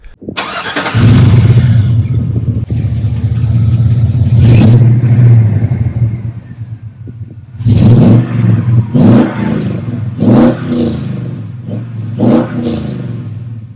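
A Chevy Silverado truck with a MagnaFlow muffler revving loudly up close, a long deep sustained rev followed by a series of short sharp blips with a throaty exhaust rumble between them.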